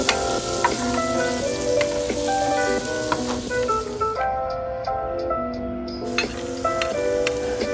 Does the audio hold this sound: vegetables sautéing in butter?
yes